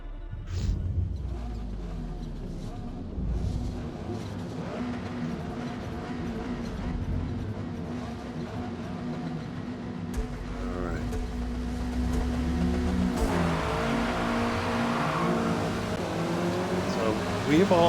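Several race car engines in Forza Motorsport at Road America, including a Honda #73 Civic, rev and build at the start, a layered droning growl that swells louder with overlapping pitch sweeps near the end.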